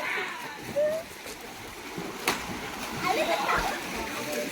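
A person tips backwards into an outdoor swimming pool with a sharp splash, followed by sloshing water. Children and adults chatter nearby throughout.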